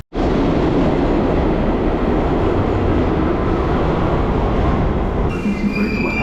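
A New York City subway train at rush hour, a loud, dense continuous roar of wheels and carriage rumble heard from inside the car, with a faint high squeal near the end.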